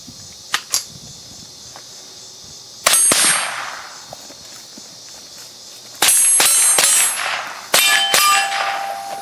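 A Ruger 10/22 rifle with a 4X scope hits steel targets outdoors, giving three loud metallic clangs that ring on with long, fading tones, plus a few faint ticks at the start.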